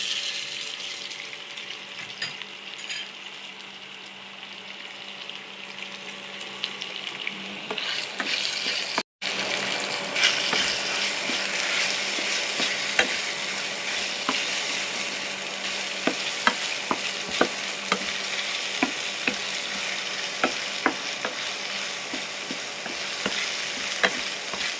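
Beef sizzles and fries in a hot pan while being stirred, a steady crackling hiss with clinks of the utensil against the pan, loud and close with no talking, for a budget chopsuey.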